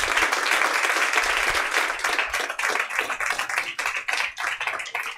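A church congregation applauds, dense sustained clapping at first that thins into looser, uneven claps toward the end.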